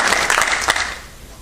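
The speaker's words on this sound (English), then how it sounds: "So please, a round of applause to Fiona Griffith" Audience applause at the SWAN UK 2012 conference welcoming the moderator, a dense wash of clapping from a crowd that stays steady and then fades out over about a second and a half.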